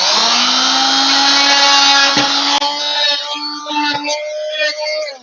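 A power tool cuts a small square out of a wooden Shaker door, giving a loud, continuous high whine that dips briefly twice as the blade works through the wood, then trails off.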